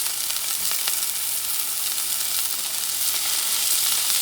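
Butter sizzles loudly in a hot pan with seared ahi tuna and scallops, a dense, steady, close crackling hiss that holds throughout without pause.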